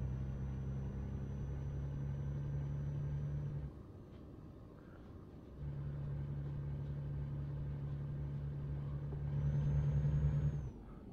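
A DAF XF 105 truck in Euro Truck Simulator 2 holds a steady, droning diesel engine tone. The tone drops out briefly for a gear change, then resumes and rises as the truck pulls up through the next gear.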